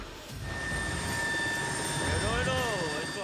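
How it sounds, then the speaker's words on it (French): Super Puma helicopter lifting off during a timber-hauling operation, a steady loud rotor and turbine roar with a whining tone that rises and wavers toward the end, with no talk over it. "Le Super Puma vient de décoller."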